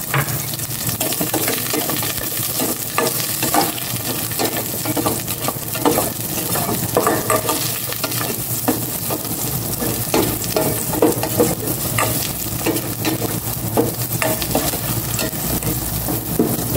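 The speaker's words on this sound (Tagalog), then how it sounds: "igisa ko na itong bawang. Ilagay ko na rin itong sibuyas." Garlic and then onion sautéed in a hot pan, sizzling and frying steadily and loudly throughout, with frequent stirring scrapes and clatter of the utensil against the pan, no talking.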